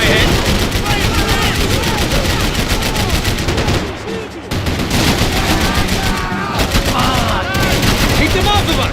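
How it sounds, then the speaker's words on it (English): Dense, loud gunfire rattles almost without a break in the shooter game Max Payne 3, sustained automatic bursts and whizzing rounds with a brief lull midway, while voices speak over the shooting. "I can't concentrate with bullets swinging past my head."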